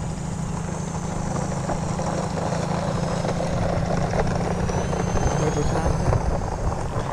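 An RC airplane shaped like a letter E, its propeller motor in steady flight, gives a continuous buzzing drone at an even level throughout, with faint background sound.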